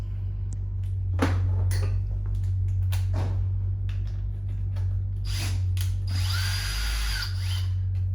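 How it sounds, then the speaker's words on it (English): Power drill loosening the bolts of a choke pull-off diaphragm on a Motorcraft carburetor during a rebuild. It comes in several short whirring bursts amid clinks of metal parts, with a longer bright whine near the end, close and fairly loud. "This here that I'm unbolting right now is what they call the choke pull-off diaphragm."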